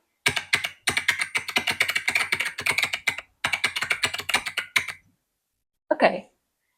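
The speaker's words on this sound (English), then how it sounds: "This sounds like someone like angrily typing, just smashing their keyboard." Loud AI-generated sound effect of angry keyboard smashing: rapid, dense clatter of keys in several hard bursts with brief gaps, ending in one separate short thump.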